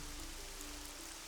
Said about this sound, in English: Now we also have the lovely rain sounds